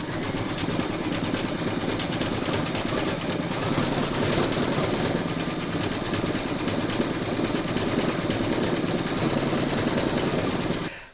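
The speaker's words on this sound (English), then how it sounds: "stitch round number 16, and that's going to do the decorative stitching along here to secure the top of your lining" A sewing machine runs a decorative stitch along the lining top of a zipper glasses case, a steady fast mechanical whirring and rattle held without a break for about eleven seconds, close and loud, then stopping.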